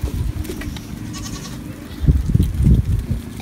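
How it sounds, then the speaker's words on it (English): Several goats bleat close by, the calls growing louder and more frequent toward the end, with faint background voices. "Here are the goats."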